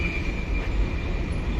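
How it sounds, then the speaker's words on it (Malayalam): A train passes on the railway beneath a road bridge, giving a steady, continuous low rumble with a faint high whine and no voices. "ട്രെയിൻ ഇതാ കടന്ന് പോയിക്കൊണ്ടിരിക്കുകയാണ് ഇതുവഴി."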